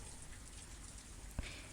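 Soft, constant rain patters in the background, even and faint, with one brief sharper knock near the end.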